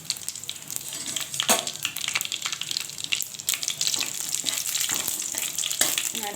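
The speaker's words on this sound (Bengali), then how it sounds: "তারপর শুকনো লঙ্কাটা তুলে দিলাম, তারপর তেজপাতাটা একটু ভালো করে ভেজে নেব।" Whole cumin, dried chili and bay leaf frying in hot oil, a crackling sizzle with irregular pops and stirring clatter, close and fairly loud.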